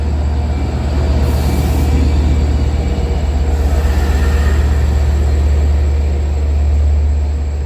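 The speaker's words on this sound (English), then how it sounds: "Here's a better look of the diesel just as it leaves." A diesel commuter train pulls out of Hicksville station, its engine drone steady and loud throughout with a deep rumble and faint wheel noise rolling along the rails.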